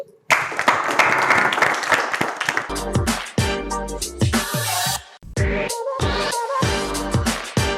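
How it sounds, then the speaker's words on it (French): Studio audience applause at a French-language talk show, loud and sustained for several seconds, with a dense wash of many hands and a few sharper claps and thumps breaking through. "On applaudit."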